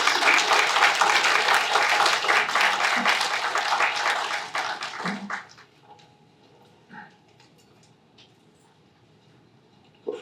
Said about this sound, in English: we ought to give them a resounding round of applause